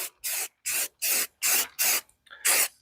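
A spray can coats a gun with paint in six short, sharp hissing bursts, each about a third of a second long with brief gaps between them, close by and with no speech.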